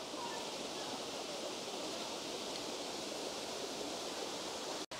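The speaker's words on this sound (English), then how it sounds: "We have reached the waterfall area, and we're gonna make our way" Red Rock Falls sends up a steady, broadband rush of falling water, a constant hiss with no breaks, moderately faint and even, ending with a brief click.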